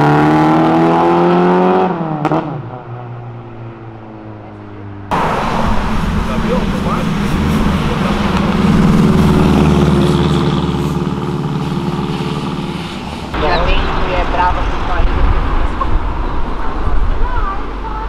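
A V8 muscle car driving on the street, its engine droning and rising in revs across several bursts, with a loud whooshing stretch and abrupt shifts in the rumble; a voice talks over parts of it.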